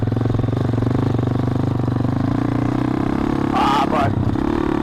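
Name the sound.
SSR 110cc pit bike engine running with FMF pipe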